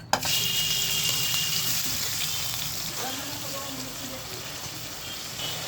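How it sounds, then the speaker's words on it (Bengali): Onion paste hits hot soybean oil in a wok and sizzles steadily and close by, a continuous hissing fry that keeps going for the whole stretch with faint clinks of cooking underneath. "তেলটা গরম হয়ে গেছে, পেঁয়াজ বাটাগুলো দিয়ে দেবো।"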